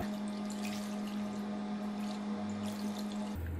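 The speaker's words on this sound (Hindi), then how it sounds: "इसे अच्छी तरह आप निचोड़ लेंगे।" Water squeezed out of grated potatoes through a muslin cloth while making hash browns, heard as a steady close trickle and splash of liquid that runs unbroken before stopping abruptly.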